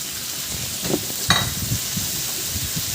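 Tomatoes dropped into onions already sizzling in a pan, a brief burst of sizzle and stirring rising over steady low frying, close and moderately loud with no talk.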